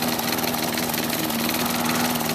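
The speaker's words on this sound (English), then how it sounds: "The engine sounds pretty bad. There's a lot of rattling going on in there." A lawnmower engine fitted to a motorcycle with a modified throttle runs at high revs, a loud steady buzzing drone with a rattling mechanical undertone throughout.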